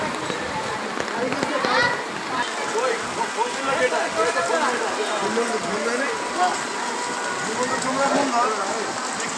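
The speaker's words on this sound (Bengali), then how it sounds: "খুব ভয়াবহ পরিস্থিতি আজকের বৃষ্টির অবস্থাটা।" Heavy rain pours steadily over a fully submerged city road from Shonir Akhra to Goal Bari crossing, a dense continuous hiss and patter with voices faintly mixed in.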